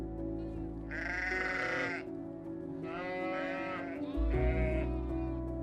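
Several sheep bleat on a windswept hillside in the Faroe Islands: three drawn-out, wavering calls at close range, separated by short pauses. A steady low rumble of wind runs underneath.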